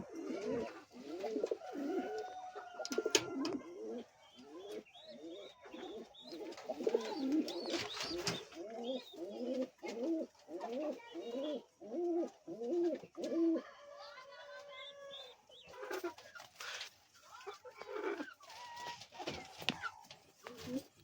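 Fancy pigeons, a pet pair for sale including a king, coo in a steady series of soft rhythmic throaty calls close by, with a few chirps and other bird sounds between them.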